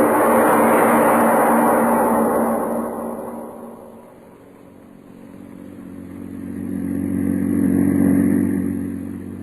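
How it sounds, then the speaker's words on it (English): A car engine drones along a country road as a radio drama effect, a steady mid-pitched hum that swells, dips briefly, then rises again, with no one speaking. "The publisher and his chauffeur are driving along a country road."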